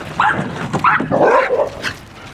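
A puppy gives several high yips and barks that slide into whining whimpers, close and fairly loud, with no talking.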